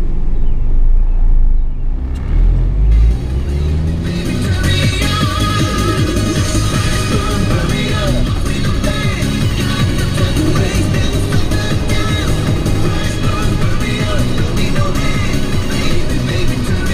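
A 2005 Mazda 3s being driven: a steady, loud interior rumble of engine and road noise with wind buffeting, continuous throughout, a brief shift in tone near the start.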